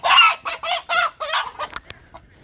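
Farm rooster clucking in a quick run of close, loud throaty calls, tapering off into a few shorter clucks.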